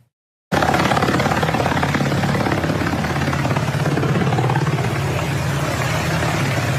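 Loud, steady helicopter rotor and engine roar over Chicago during a nighttime immigration raid, starting abruptly after a brief silence and continuing without a break, close and dominant, with no voices.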